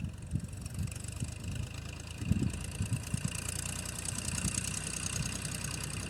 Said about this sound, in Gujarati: અમે ને ટ્રેક્ટર હાલે છે